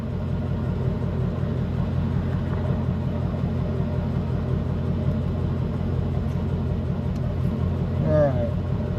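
A Ford Coyote V8 pickup truck engine idles with a steady, close, low rumble that holds evenly throughout, and a brief voice is heard near the end.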